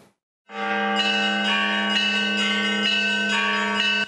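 A church bell rings loudly and close at the 10-year anniversary celebration of the Ilyinsky cathedral in Rossosh, with repeated rich metallic strikes about every half second that sustain a long resonant hum, with no voices.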